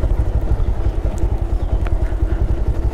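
A motorcycle engine rumbles steadily close by with a low, pulsing throb and light mechanical clatter, as the bike idles after pulling up at a roadside tea stall on a forest ride.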